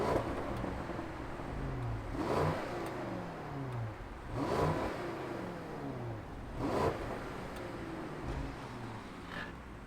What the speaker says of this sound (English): very nice to see the option for this twin turbo V8, but you know what? Let's fire this up.